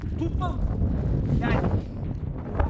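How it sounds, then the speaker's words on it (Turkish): Heavy wind buffets the microphone with a constant low rumble, while people talk loudly over it. "Aşırı rüzgarlı bir yer burası"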